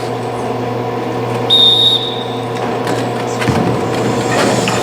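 A referee whistle at a roller derby bout gives one shrill blast of about half a second over a loud, reverberant crowd and hall hum.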